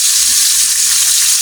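Hot water from a thermos hits a hot cooking pan of saluyot, giving a loud, continuous hissing rush like sizzling that holds steady throughout.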